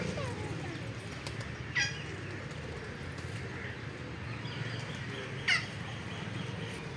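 Two short, separate rooster calls come over a steady background murmur at a zoo in Dera Ghazi Khan.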